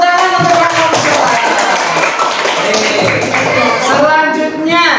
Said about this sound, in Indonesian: Tepuk tangan untuk kelompok musola.